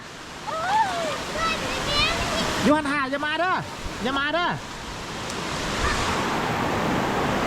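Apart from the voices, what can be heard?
Tat Sae waterfall, Luang Prabang, rushing water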